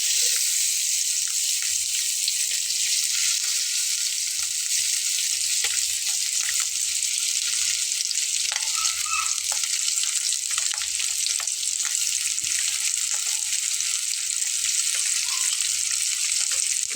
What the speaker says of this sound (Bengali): আমার ফ্রাই প্যানে যে তেলটা দিয়ে নিয়েছিলাম সেটা কিন্তু গরম হয়ে গেছে